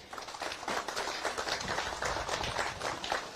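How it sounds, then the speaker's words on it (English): An audience at a foreign-ministers' press conference gives a sustained round of applause, dense clapping from many hands held at a steady level for the whole stretch. "just another big round of applause"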